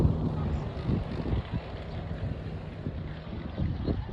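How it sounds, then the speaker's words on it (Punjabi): Strong wind buffeting the microphone at Auckland Botanic Gardens, a loud continuous rumbling roar with gusty surges and no clear voices. "ਇੱਥੇ ਹਵਾ ਬਹੁਤ ਤੇਜ਼ੀ ਨਾਲ ਚੱਲ ਰਹੀ ਹੈ"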